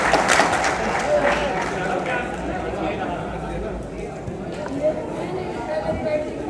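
Audience applause welcoming a speaker at a political rally in Delhi, a rough, fairly distant wash of clapping mixed with crowd chatter and talk.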